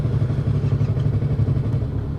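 A Yamaha R3 motorcycle engine idles steadily up close, a continuous low, even drone with a light mechanical clatter and no change in pace, and nobody speaking.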